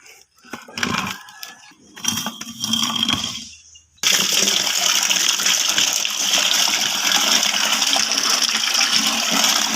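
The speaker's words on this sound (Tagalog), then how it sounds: "lalagyan ko lang po ng tubig" Water gushes steadily into buckets of urea fertilizer being mixed for fertilizing eggplants, a loud continuous pour that starts abruptly partway through after some quieter handling and splashing.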